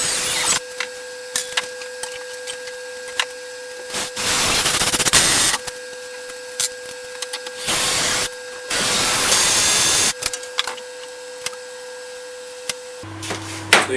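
A screw is driven into wood in a small workshop by a power driver: several short bursts of whirring with quiet gaps between them, close and loud.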